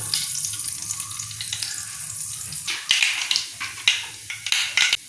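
Mustard seeds and fenugreek fry in hot coconut oil in a pan, giving a steady close sizzle that turns into sharper crackling pops toward the end, with no voices.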